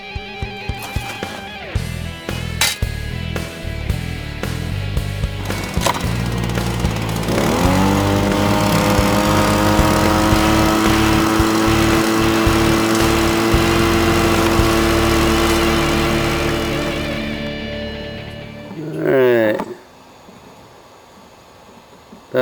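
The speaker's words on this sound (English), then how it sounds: "we're gonna run all this through a dry washer and see if we can get small pieces of gold out of my little mine dump here" An engine-driven dry washer runs on a gold mine dump, its small motor starting with rapid popping, then revving up and holding a steady droning roar for several seconds before winding down with a brief surge and stopping.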